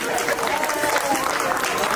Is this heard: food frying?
no